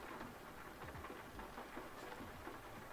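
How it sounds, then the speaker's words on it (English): Steady rain in Euro Truck Simulator 2, heard from a truck on a Romanian road as a dense, even hiss with a low rumble beneath, continuous and fairly soft. "the rain is glorious."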